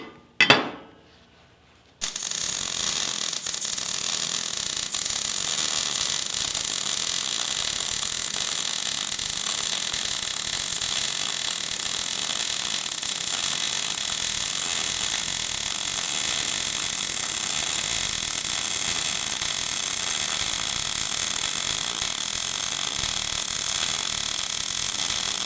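A wire welder lays a bead along a corner joint, giving a steady, loud, continuous crackling hiss that runs unbroken for over twenty seconds after a short click at the start.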